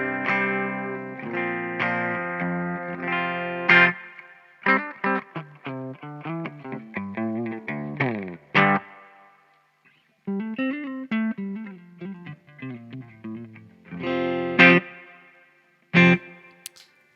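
An electric guitar plays a run of chords and picked notes in a clean tone, with short pauses between phrases and a ringing sustain.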